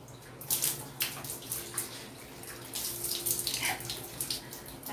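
A shower runs with a steady hiss of falling water, splashing irregularly at low to moderate level, with no voices over it.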